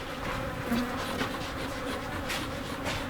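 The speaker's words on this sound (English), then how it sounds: "Probably 30 bees around me before the garage." A swarm of honeybees buzzes steadily all around, a dense continuous hum with individual bees droning past up close.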